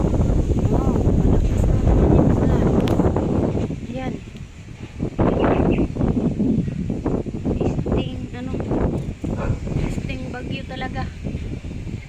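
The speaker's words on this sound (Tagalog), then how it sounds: "Grabe, ang lakas ng hangin" Strong, gusty typhoon wind roars and buffets the microphone, with a person talking through much of it.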